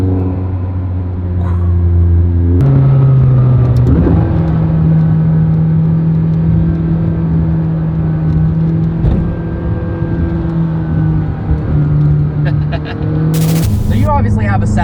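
A Ford GT accelerating hard through the higher gears, a loud steady engine drone with a roof scoop sucking air, shifts audible as pitch jumps, then a sharp bang near the end.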